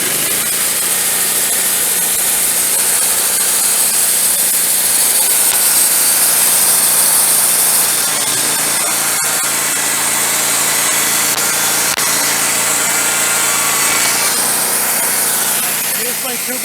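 A Woodmizer LT15 Go sawmill cuts lumber into 2x3s and 2x4s, its engine droning loud and continuous as the blade saws through the log, with a brief clunk midway.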